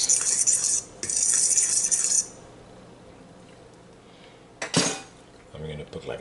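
Salt being mixed into flour in a metal bowl for dahl puri dough: two bursts of scraping, clinking stirring, followed by quieter rustling and a brief knock near the end.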